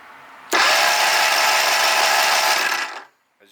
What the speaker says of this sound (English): Let's go ahead and spin the engine.